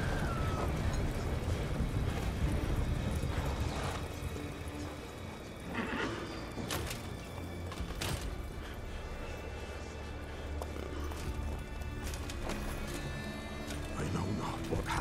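Horse hooves clip-clopping in The Witcher 3 game, steady and fairly close amid a dense wash of music and ambient noise, with a snort or whinny, a few sharp bangs and a voice over the top.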